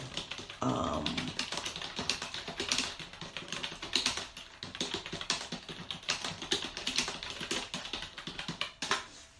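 Rapid typing on a computer keyboard, a dense, fast stream of close key clicks and taps with no pauses.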